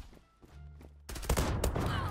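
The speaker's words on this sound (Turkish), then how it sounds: "Sesi duyuyorsunuz zaten, çok güzel bir sesi var silahın." A rapid burst of rifle fire in the online shooter Zula cracks out after a second of quieter rumbling, several loud close shots in quick succession.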